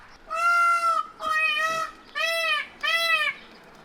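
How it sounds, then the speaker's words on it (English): A male peacock on a summer farm gives four loud, drawn-out calls in close succession, each lasting under a second, with short pauses between and no talking. "One of our male peacocks."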